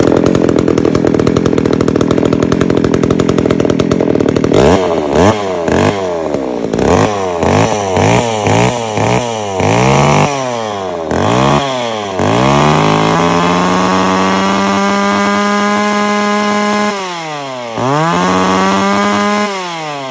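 A Makita E2835 gasoline chainsaw runs loudly up close, its engine revving up and down repeatedly in sharp bursts before holding a high whine and revving again.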